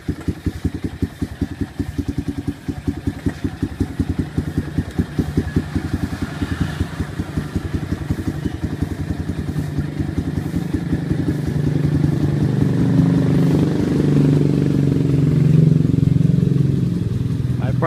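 A Honda XR200 motorcycle engine runs close by, a steady rapid idle clatter that swells louder and rougher toward the end.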